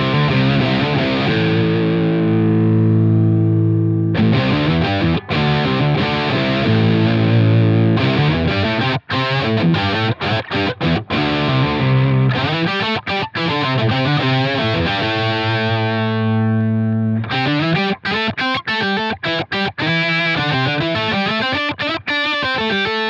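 Distorted electric guitar played through a Line 6 Helix polyphonic pitch shifter with auto EQ engaged, sounding loud and continuous: sustained chords and riffs with choppy, stabbed passages, thick and processed, with no voices over it.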